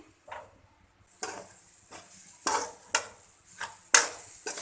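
Stirring red chilli powder and dried coriander powder into moong dal in a pan, with scraping, clinking strokes repeated in an irregular rhythm close by, alone without talk.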